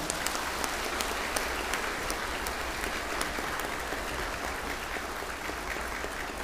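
A large audience at a Buddhist gathering claps steadily, a sustained wash of many hands with scattered sharper claps, heard from some distance and holding even throughout.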